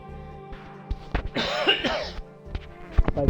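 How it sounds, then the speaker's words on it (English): One person coughs hard at close range, with a rough, throaty burst in the middle and a few smaller coughs and throat-clearing sounds around it. "If I keep coughing, I'm gonna have to stop."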